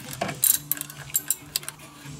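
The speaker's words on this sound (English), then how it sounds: "this is just the 13 millimeter that we're going to use to loosen and remove" A 13 mm wrench works a bolt loose on a DeLorean's frame mount, giving a short run of close, sharp metallic ratcheting clicks and taps at uneven intervals.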